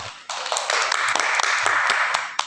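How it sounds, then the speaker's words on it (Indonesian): An audience at a nursing orientation seminar in Surakarta applauds in a dense, sustained round of clapping with sharper individual claps scattered through it. "Kita berikan tepuk tangan untuk Mbak Devi."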